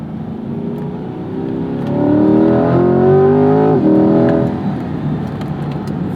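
A 2021 Chevrolet Corvette C8 Z51 with a naturally aspirated V8 revs up loudly from a steady drone, the pitch climbing and peaking mid-clip before easing back, heard up close with no talking.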